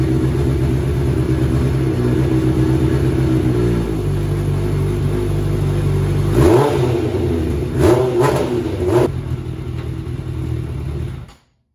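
A 1986 Suzuki GSX-R 750 motorcycle engine revving loud and close, a steady roar that swells in several throttle blips before cutting off abruptly into silence.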